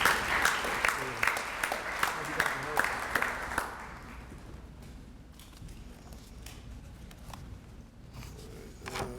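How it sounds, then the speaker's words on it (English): An audience at a Black history honors press conference claps loudly for a few seconds, then the applause fades out into quiet room noise with faint shuffling. "Let's give them a hand, please."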